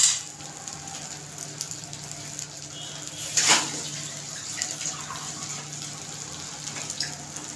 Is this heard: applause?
no